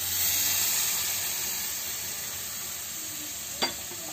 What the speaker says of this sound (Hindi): अब इसको ये ब्राउन होने तक इसको भूनते रहेंगे